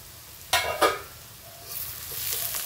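Onion sautéing in a pan: two sharp scraping stirs of a spatula, then a soft sizzle building and hissing steadily, close by with no talk.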